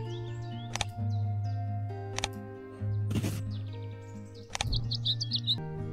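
Digital bird chirps from the Wingspan board game play over a steady background music bed, with several short sharp tweets and a brighter flurry of calls near the end.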